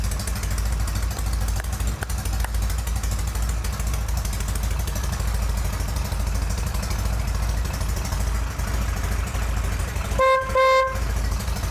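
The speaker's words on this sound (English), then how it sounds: "Horn's working." A Norton motorcycle horn gives one short, bright honk near the end, over a steady low engine idle that fills the rest of the stretch.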